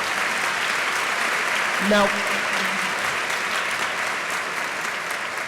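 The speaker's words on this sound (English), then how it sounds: "Could we have a round of applause for our many co-sponsors?" An audience at a University of Pennsylvania evening lecture applauds its co-sponsors, a steady dense wash of clapping that fills the room throughout, with a brief spoken word rising above it.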